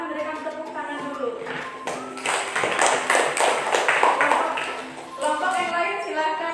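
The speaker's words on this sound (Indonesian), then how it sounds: "Silakan berikan tepuk tangan dulu." A classroom of students claps for the best discussion group, a dense burst of hand claps building in the middle and lasting a few seconds, with voices talking before and after it.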